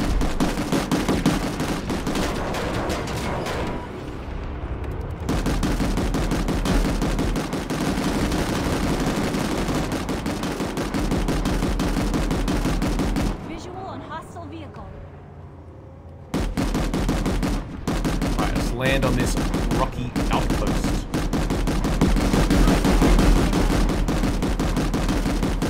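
Planetside 2 gunfire pours out in dense, loud, sustained automatic bursts for most of the stretch, briefly dropping away in the middle before the shooting resumes just as heavily.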